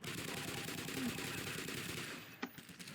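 Rifle fire in the game Half-Life rattles off as rapid, continuous bursts at moderate level, then drops into quieter room tone broken by one sharp shot near the end.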